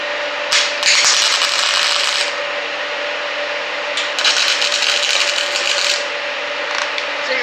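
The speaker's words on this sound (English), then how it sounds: "I'm just going to go ahead and tack it on both ends" MIG welding tacks on an outside corner joint of steel, with the wire speed maxed out: two loud, sustained sizzling, crackling bursts separated by a short lull, close and dominant.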